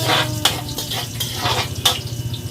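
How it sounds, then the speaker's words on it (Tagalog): Garlic and onion sautéed in hot oil for pancit canton, a close sizzle under quick, repeated spatula scrapes and clinks against the pan, with no voices. "Gisa-gisa muna tayo."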